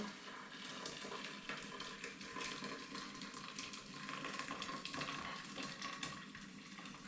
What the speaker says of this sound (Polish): Zalewam to ciepłą wodą